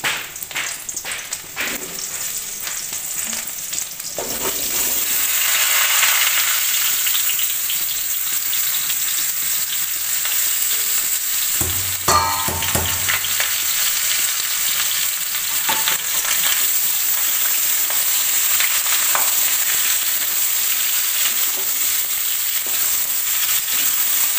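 Potatoes fry in hot oil for alu dum, giving a loud, continuous sizzle with crackling bursts. Occasional scraping and stirring sounds come through, and a louder rattle of stirring is heard near the middle.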